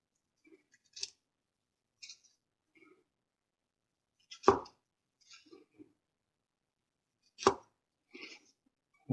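Wet kitchen knife slices through a Spanish-style avocado sushi roll, giving a few crisp, separate cuts with quiet pauses between them, close and fairly clear.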